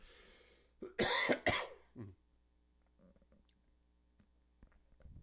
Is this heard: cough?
yes